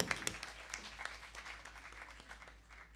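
Scattered applause from a small crowd at a live music tribute show, fairly faint and thin, with a few sharper claps near the start and light chatter underneath.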